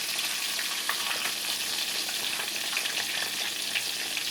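Pollock fillets in almond flour frying in a pan, a steady dense sizzle with faint crackles and pops throughout, close and continuous with no voices.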